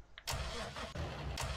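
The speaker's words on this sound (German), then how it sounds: "Motor starten." A Fendt tractor engine starts in Farming Simulator 19, with a short cranking burst followed by a rough, steady medium-pitched idle close by and a few brief clicks over the top.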